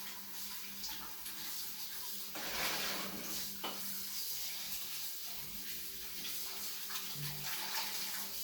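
Potatoes being washed under a running kitchen tap, a steady close hiss of flowing water with brief splashy surges as the tubers are rubbed and turned, no voices.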